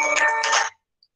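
A mobile phone ringtone sounds briefly in a lab, a bright, close electronic chime lasting under a second before cutting off into silence.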